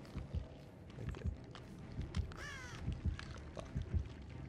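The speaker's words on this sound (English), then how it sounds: "Crows? Crows? Crows?" A single crow caw rings out once in Dead by Daylight over a busy bed of soft footsteps and rustling game ambience, brief and moderately faint.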